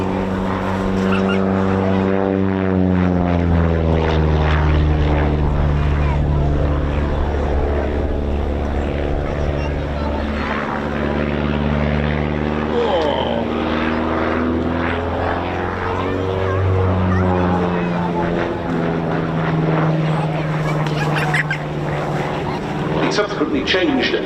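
Propeller aerobatic aircraft flying a display line with a hesitation roll at an RAF East Kirkby airshow, its engine note sweeping up and down in pitch continuously, loud and close beneath a commentator talking over it.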